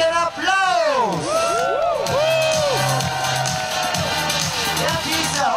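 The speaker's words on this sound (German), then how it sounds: "Fangen wir natürlich an, auch mit einem kräftigen Applaus!" A crowd cheers and whoops loudly at an outdoor night show in Gerlos, with voices shouting over the steady roar and sliding whistle-like tones rising and falling above it.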